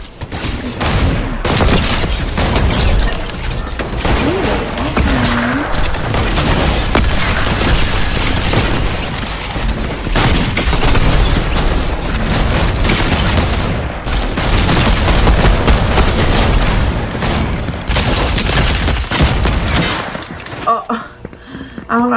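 Rapid, repeated gunfire from six shooter pistols in Fortnite, with dense cracking bursts going on nearly nonstop for about twenty seconds before thinning out near the end.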